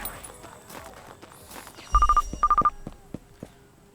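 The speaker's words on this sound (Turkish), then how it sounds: "Telefon çalıyor." Two short bursts of a telephone ringtone sound in the Drug Dealer Simulator game, a few rapid rings each, heard over faint game ambience and footstep-like thuds.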